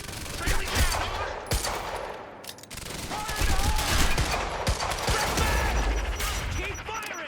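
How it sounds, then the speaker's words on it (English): Sustained rapid gunfire rattles through a firefight in Quantum Break: dense overlapping bursts and single cracks, loud and close, with a short lull in the middle and shouted voices mixed into the battle. "Keep firing!"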